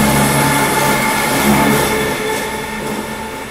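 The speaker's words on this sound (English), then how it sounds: "that was a weird sound I heard coming from that train" A loud, continuous metallic screech with a high whine over a low rumble from Keystone Service Train #654, hauled by ACS-64 #626, departing Exton, close and steady.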